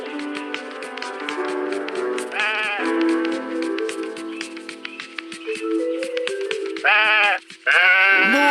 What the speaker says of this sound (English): More sheep, although one of them looked unique.